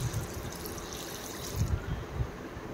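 Water poured from a glass into a pressure cooker holding chickpeas for a kabuli chana masala, a soft continuous trickle and splash with a few louder gurgles, close and alone.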